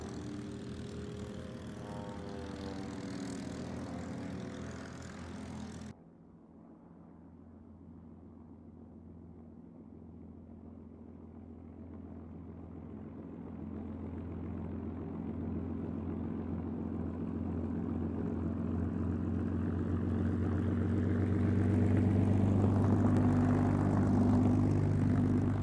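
Propeller aircraft engines at a VE Day air show, RV8s and the Mustang Ferocious Frankie, a steady drone that cuts off abruptly, then a second engine note builds gradually louder and nearer over about twenty seconds.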